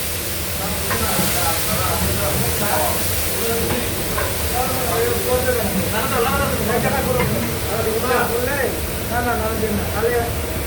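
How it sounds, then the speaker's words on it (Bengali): Spices dropped into very hot oil for muri masala, including asafoetida, giving a continuous loud hiss and sizzle while someone talks over it. "এখন এই মশলাগুলো আমরা ওই হাই টেম্পারেচার তেলে ছেড়ে দিচ্ছি"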